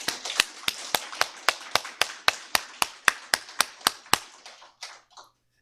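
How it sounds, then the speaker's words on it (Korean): A church congregation claps in unison in praise: about sixteen sharp, evenly spaced claps in a brisk steady rhythm, then a few scattered trailing claps as it dies away into silence, with no voices. "감사의 영광의 박수 하나님께 올려드립니다"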